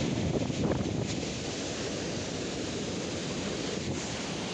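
A swollen river runs high after heavy rain, a loud continuous roar of rushing water with wind buffeting the microphone, no voices.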